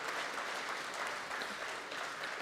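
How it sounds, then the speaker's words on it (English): Conference audience at a Nigerian editors' gathering applauds the president, a continuous wash of many hands clapping, even and moderately distant, with no voices over it. "Please, can we put our hands together again for Mr. President?"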